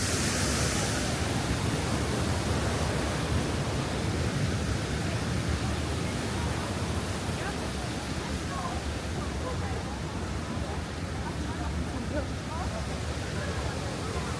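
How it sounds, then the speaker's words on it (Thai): Broadband roar of the Rhine Falls waterfall in Switzerland, heard close by as a steady, loud rush of water that continues unbroken throughout. "น้ำตกของแท้"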